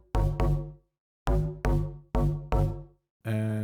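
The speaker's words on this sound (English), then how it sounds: "for the bass underneath, I'm using a Massive X preset again." Deep synth bass from a Massive X preset called Monkey Forest plays short punchy notes in a broken rhythm with pauses between, then ends on a sustained buzzy tone, heard alone.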